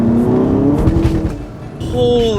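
A Volkswagen GTI in sport mode accelerates hard, engine revving loud and close with wheel spin as pitch climbs, then drops and rises again; voices are heard over the engine.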